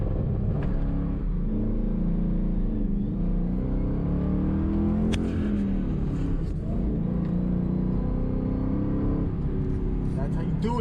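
A car fitted with an MSD 2-step launch control holds revs in first gear with the clutch in, giving a loud, steady engine drone recorded from inside the cabin for several seconds.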